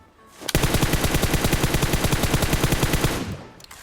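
A rifle fitted with a triangle grip fires one long, loud, rapid automatic burst of close gunfire in PUBG Mobile, lasting about three seconds before it stops, with no talking.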